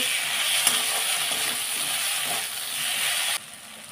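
Mustard paste made from black and white mustard seeds being mixed into elephant foot yam stalks cooking in a pan: a dense, even hiss of frying with faint stirring scrapes, close and fairly loud, cutting down sharply near the end.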